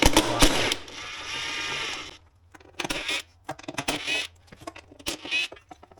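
A ratchet clicks in quick bursts while removing screws from a Ram TRX air intake, starting with a dense run of clicks and then breaking into short, separated spurts.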